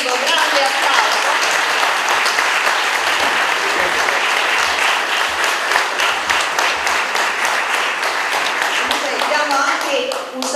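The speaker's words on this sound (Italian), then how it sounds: "Questo il Presidente Grimaldi lo salutiamo e accomuniamo in un unico grande applauso." Sustained, loud applause from an audience at a Lions Club ceremony closing the social year, steady clapping filling the whole stretch without pause.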